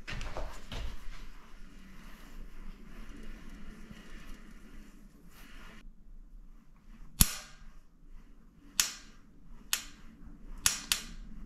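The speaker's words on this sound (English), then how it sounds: "It's making that sound, so there must be a flat spot in the bearing." Faint mechanical rumbling gives way to a few sharp, isolated clicks at irregular intervals from a bicycle bottom bracket bearing with a flat spot, close and crisp against a quiet background.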